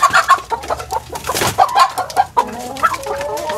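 Green junglefowl clucking in a mating setting, a run of close, fairly loud short clucks and calls with no talking.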